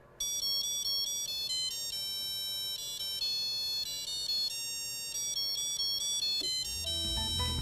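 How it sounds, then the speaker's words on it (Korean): A salon device's timer notification, a bright electronic melody of repeated beeping tones playing continuously, clear and steady, before a low rumble rises at the end. "저희가 알림 소리를 넣었습니다."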